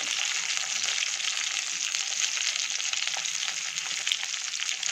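Dried red chillies, onions and curry leaves fry in hot oil, giving a constant, bright, close sizzle with no pauses and no talking.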